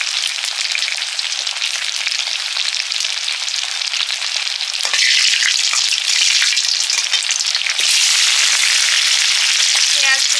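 Dry red chillies, bay leaves and whole cumin fry in oil in a kadai for a chicken curry: a loud, continuous sizzle with crackling pops that grows harsher as more goes into the pan, with no voices.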